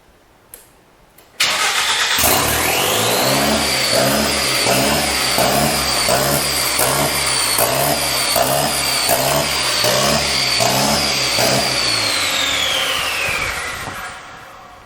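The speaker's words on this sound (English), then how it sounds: "go ahead, reach in there and start the car" A DeLorean car with an EcoBoost engine cranks and catches, then runs steadily at a loud, rhythmic idle with a whining pitch before slowly settling lower, close by.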